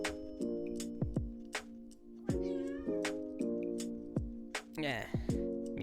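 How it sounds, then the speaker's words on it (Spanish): A house cat meows repeatedly, several short calls spaced across the moment, close and clear over a quiet background with faint ticking. "Mi gato me está molestando."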